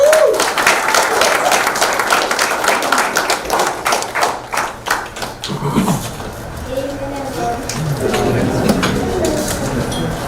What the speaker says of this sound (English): please give a round of applause to Ms. Danai Mohammed as she comes to stage